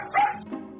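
A dog gives one short, sharp bark, close and moderately loud, followed by a softer trailing yelp.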